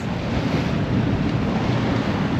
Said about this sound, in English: We got waves.